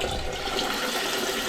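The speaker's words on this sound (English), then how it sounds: "I've opened up that valve, opened up the ball fix, we should have water." Water rushes through household plumbing just after a valve is opened, a steady loud hiss of flowing water, close and continuous with no speech.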